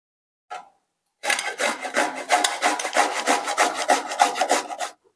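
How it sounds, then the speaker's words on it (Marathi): A pumpkin is grated by hand for pumpkin pooris: after one short scrape and a pause, a long run of quick, rhythmic rasping strokes follows, close and loud, with no talking. "तर आता आपण हा भोपळा जो आहे तो किसून घेऊयात।"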